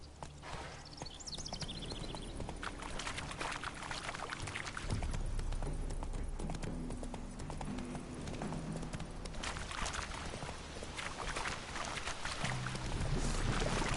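Hooves clop in a steady rhythm as a horse is ridden through The Witcher 3, the beat running continuously at a moderate, close level over dense ambient game sound, with no voices.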